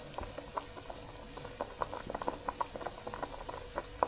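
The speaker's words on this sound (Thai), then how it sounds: "ปล่อยให้มันเดือดอย่างนี้เลยนะครับ ประมาณหนึ่งนาทีสองนาทีนะครับ" Minced pork boils in a pot, giving a soft, continuous bubbling with small popping blips, fairly quiet and heard alone.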